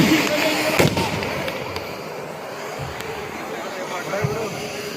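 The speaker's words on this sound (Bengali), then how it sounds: "আতসবাজির মাধ্যমে সবাইকে করতালির মাধ্যমে" Fireworks bursting at the opening of a village football tournament, a steady crackle and popping with sharper bangs near the start, loud and continuous under crowd murmur and a faint announcer voice.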